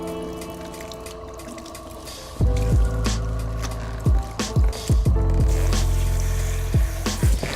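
Hair extensions are swished and squeezed by hand in a basin of water while being shampooed, giving wet sloshing and squishing sounds with irregular splashy bursts, close up.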